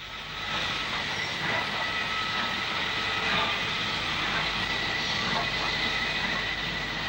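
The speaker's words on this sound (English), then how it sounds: "CD3, the letters stand for Carriage Department, hauled her sisters out of the shed for the benefit of the camera" Locomotive CD3 of the Carriage Department hauling other locos out of a shed, heard as a steady, continuous rumble and rolling clatter that holds at an even loudness throughout.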